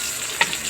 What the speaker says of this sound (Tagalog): igigisa na natin yung bawang luya and then sibuyas